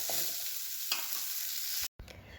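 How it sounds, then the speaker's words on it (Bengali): Cauliflower pieces frying in a pan, a steady close sizzle with a couple of soft stirring scrapes, broken by a brief cut near the end before the hiss resumes. "কপিগুলো ভালো করে একটু কমিয়ে কমিয়ে ভেজে নিই"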